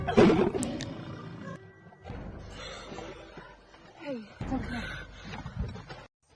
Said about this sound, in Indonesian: tiba-tiba seekor singa ada di depannya